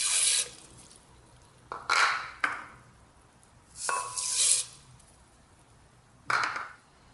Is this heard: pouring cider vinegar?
yes